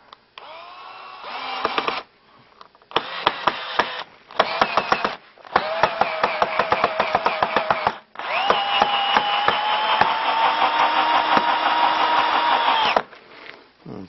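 A DeWalt cordless screwdriver drives a screw in a shop, its motor whining in several short bursts and then one long steady run, with brief pauses between the runs.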